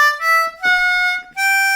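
On a C harmonica, a brief blues lick moves through a few sustained, bright reedy notes separated by short gaps, close and loud with nothing else heard.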